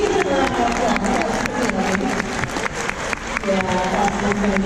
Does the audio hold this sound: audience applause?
yes